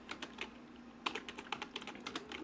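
Typing on a computer keyboard while adding comments to Pygame code, with rapid, irregular key clicks in quick bursts, close but quiet, and no talking.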